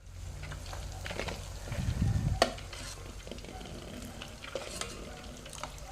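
Butter simmers in a pot into ghee, a faint steady bubbling sizzle with occasional spoon stirs and one brief clink against the pan.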